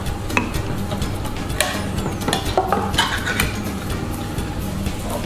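Corned beef and chilli tipped into a cooking pan and stirred, soft sizzling under scraping and clinks of a utensil against metal, close and moderately quiet.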